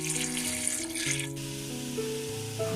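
A glass of water is poured into a pressure cooker of potato and pea curry masala with chili powder, salt, turmeric and oil, a brief splashing rush that fades under steady background music.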